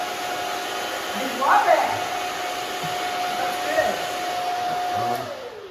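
A blow dryer dries hair during a boy's haircut, a loud steady whirring drone with a high whine, running close and nearly unbroken while a person speaks briefly over it.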